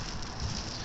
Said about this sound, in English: walking in the rain